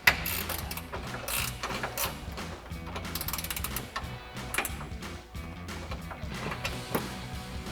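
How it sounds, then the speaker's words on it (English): An 18mm ratcheting wrench tightens the forward mount bolt of a front lower control arm on a 2010-2014 Mustang, giving steady close clicking ratchet strokes with no talking. "take our 18mm ratcheting wrench, and tighten down that bolt."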